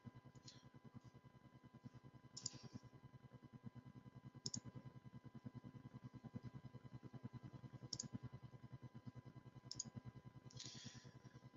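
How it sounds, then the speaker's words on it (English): Sharp mouse clicks sound every second or two against a steady low computer hum while points are picked on dental scans in implant-planning software, with a faint rapid ticking underneath. "you can do that by clicking these 3 points"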